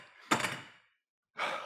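A body slams down onto a floor during inchworm slam exercises in a metabolic conditioning workout, producing two heavy broadband thuds separated by a silent gap, close and fairly loud.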